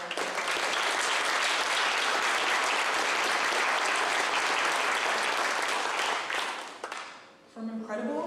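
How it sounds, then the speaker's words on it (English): A large audience at a young alumni awards night gives a loud, sustained round of applause that fills most of the clip, then fades out near the end as a voice begins speaking. "Let's have one more round of applause for all of our"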